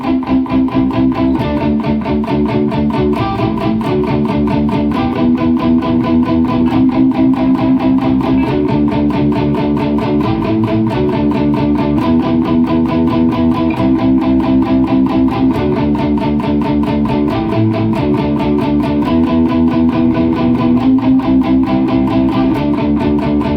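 Electric guitar playing a riff from a song, built on partial chords with a driven, distorted tone, loud and continuous with a steady rhythmic chug and no voices.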